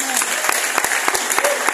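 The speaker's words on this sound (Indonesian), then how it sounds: "tepuk tangan buat Tuhan Yesus" A church congregation at a thanksgiving service in Medan claps together, sharp separate hand claps ringing out over a dense crowd of applause, loud and near, with voices mixed in.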